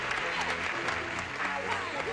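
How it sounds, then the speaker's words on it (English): A television game show studio audience applauds a guest, a steady, moderately distant roll of many hands clapping with a host's voice faintly underneath. "Let's have a nice round of applause for Colonel Jerry Birch, ladies and gentlemen"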